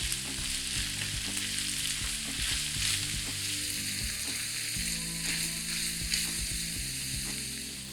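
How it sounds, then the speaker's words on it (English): Sliced onion and minced garlic sizzle steadily in a hot pan, with occasional clicks and scrapes as the mixture is stirred, close and continuous with no talking. "Mix everything well."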